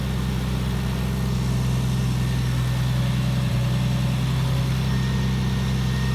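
A Triumph TR6 engine converted from carburettors to fuel injection idles steadily on its own, a continuous low rumble with a faint, gradual rise in revs and no talk over it.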